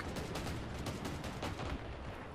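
Shotgun blasts ring out in the vehicle combat video game Crossout, a dense rapid series of heavy booming shots, quiet overall and continuous for the whole stretch.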